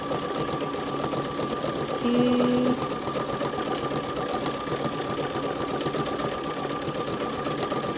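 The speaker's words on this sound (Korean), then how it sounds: "재봉틀도 지그재그로 움직이고 나도 움직이고 하면서 면을 자연스럽게 채워지도록 해주시는 거예요." A sewing machine stitches in zigzag mode at a steady, close, mechanical whir while a person guides wool thread over fabric, with a short spoken word partway through.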